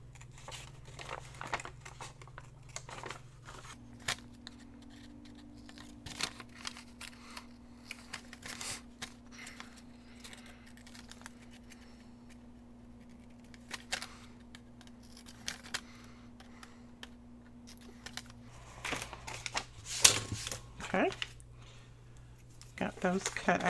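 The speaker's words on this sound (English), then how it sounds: "we'll go ahead and cut out our little corners." Scissors cut the corners out of Amazon cardboard packaging, giving scattered crisp snips and crunches over a steady low hum, with faint room noise in between.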